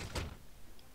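A door opens in the Fallout New Vegas video game with a single short, soft thud and slide near the start, followed by quiet background.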